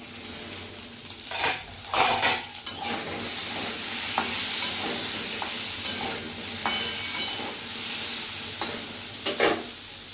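Pointed gourd and potato fry in a pan with a bright, continuous sizzle, broken by repeated scraping stirs and light metallic clinks of a spatula against the pan.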